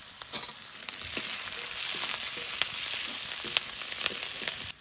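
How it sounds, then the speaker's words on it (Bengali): Green chilli, garlic and onion fry in mustard oil, a steady close sizzle broken by sharp crackles and pops, with no talking. "কাঁচা লঙ্কা, রসুন, পেঁয়াজ একটু ভেজে নিয়েছি।"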